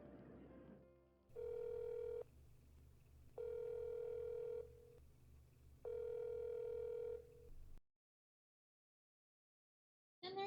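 An outgoing call tone from a phone in a video game repeats three times as long, even ringback tones with short gaps, then stops in silence.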